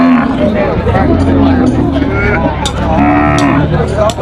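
Cattle at the Som Poi cattle and buffalo market bellow loudly and close, several overlapping moos rising above constant crowd chatter and people talking.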